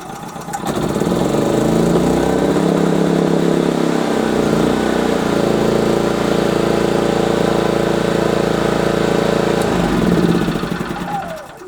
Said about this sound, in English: as you saw when I turned it to the start position, just like a car switch, the engine started.